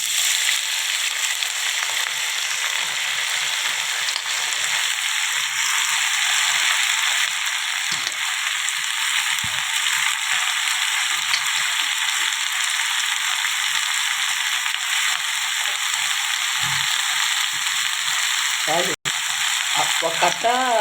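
Amaranth and gongura leaves with cumin sizzle and fry steadily in a hot pan for the whole stretch, a loud, continuous crackling hiss with a brief stirring scrape near the end.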